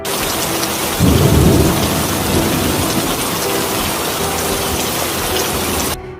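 Steady heavy rain pours throughout, with a loud rumble of thunder rolling in near the start before settling back into the downpour.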